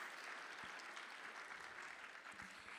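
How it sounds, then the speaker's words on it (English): Steady audience applause fills a conference session on financing food waste solutions for the climate, a dense, even patter of many hands clapping at a fairly soft, distant level with no talk over it. "Give yourselves a round of applause."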